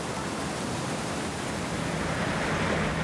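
Water rushes into a canal lock through paddles cranked open in the gates, a loud steady roar of churning water with no voices.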